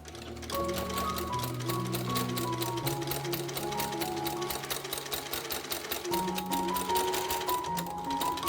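A sewing machine stitches corset pieces together, running as a steady, fast mechanical rattle at close range with slight changes in speed, and no talking.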